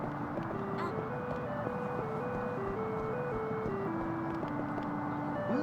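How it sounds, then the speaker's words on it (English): An ice cream truck in the video game Yakuza 3 Remastered plays a stepped jingle melody at a moderate, even level over a constant background hum. "An ice cream truck? You guys have ice cream trucks?"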